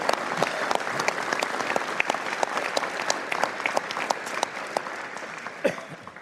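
A crowd claps in sustained, dense applause at a London Stock Exchange IPO ceremony for Princes Group, steady and fairly close throughout.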